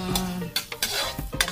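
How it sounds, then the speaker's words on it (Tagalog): Ground meat being sautéed in a pan for stuffed milkfish, with a few sharp scraping and stirring strokes over a faint, steady sizzle, close and unaccompanied by talk. "uunahin po natin igisa itong ating giniling"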